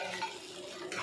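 Pav bhaji with salt and turmeric is stirred in a hot pan: a brief, steady scrape and soft sizzle, close and alone.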